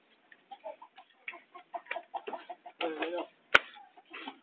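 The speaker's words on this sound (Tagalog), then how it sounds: "May manok." Chickens cluck in a rapid series of short clucks at close range, with one sharp click partway through, in an otherwise quiet setting.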